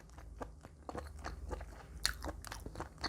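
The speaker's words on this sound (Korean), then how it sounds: "제가 먹어보도록 할게요" Someone bites and chews butter-grilled abalone cooked with minced garlic, producing close, soft crunchy chewing and wet mouth sounds in a quick irregular rhythm, with no talking.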